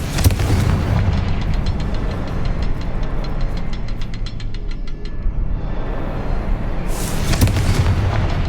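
A Confringo explosive spell goes off in Hogwarts Legacy, a loud booming blast with low rumble and a crackling burst that fades, followed by another strong impact near the end.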